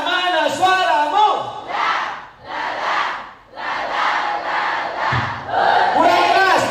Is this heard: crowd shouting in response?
yes